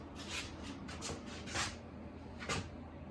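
Wooden drawers slide open and shut several times in quick succession, soft scraping rubs close by in a quiet workshop.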